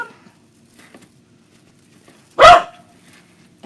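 A pet dog named Bella lets out a single loud, sharp bark up close indoors, with a fainter yip at the end and quiet room noise before it.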